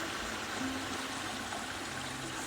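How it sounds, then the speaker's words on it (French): A small water cascade trickles from the outlet of a garden pond pump over a dry-stone structure, giving a soft, steady splashing wash that stays even and fairly faint throughout. "Petite cascade. À la sortie de la pompe."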